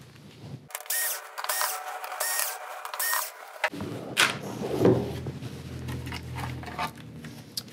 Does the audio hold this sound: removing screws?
yes